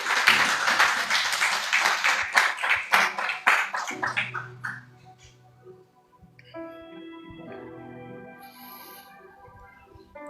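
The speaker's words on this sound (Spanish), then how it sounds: "Dale un aplauso a Jesús." Church congregation applauding, loud rhythmic clapping for about four seconds that fades out, followed by soft instrumental music underneath.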